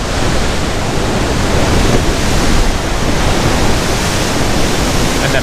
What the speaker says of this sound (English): That is some wild seas going on there.